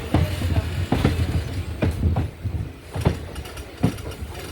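Train hauled by a WAG9 electric locomotive on the Kayamkulam–Ernakulam line via Alappuzha, heard as repeated rhythmic wheel clunks over rail joints with steady rumbling carriage noise throughout.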